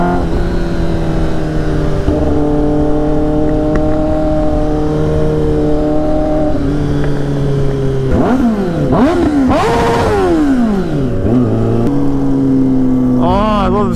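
Sport motorcycles, a Kawasaki ZX10R and a Ninja 500, idle and then rev hard on a morning canyon ride. The engine notes rise and fall in sharp throttle blips, loud and close throughout.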